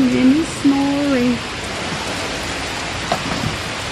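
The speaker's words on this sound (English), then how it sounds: "it's raining, it's pouring" Heavy rain pours steadily outside, a dense, even hiss running through the whole stretch, with a brief voice-like tone near the start.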